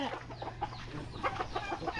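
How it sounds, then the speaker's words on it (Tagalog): Chickens clucking close by, repeated short clucks in an uneven rhythm over a low background hum. "Labig manok diri oh."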